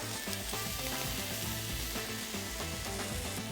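Thin slices of wagyu misuji beef sizzle steadily on a yakiniku grill at home, a close, continuous frying crackle with no voices.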